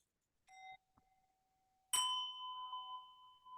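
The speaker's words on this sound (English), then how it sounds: "Anybody else want to try a bell" A small bell chimes clearly over an online call during an evening chant class, with a brief earlier ding and a later strike that rings on in a sustained, shimmering tone, otherwise quiet.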